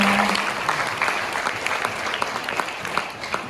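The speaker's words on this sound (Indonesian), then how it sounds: "Sekali lagi beri tepuk tangan untuk mereka." Congregation at a church anniversary and pre-Christmas service applauds steadily, a dense, fairly loud wash of clapping with individual claps popping through over a brief few seconds.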